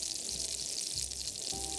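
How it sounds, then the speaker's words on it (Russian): Turkey mince patties sizzling in a hot pan on a camp stove in a snowy pine forest, a steady close frying hiss with a faint tone in the background. "На разогретую сковороду я помещаю котлеты из фарша индейки."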